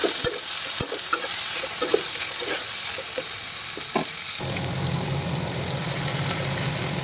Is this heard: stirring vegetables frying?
yes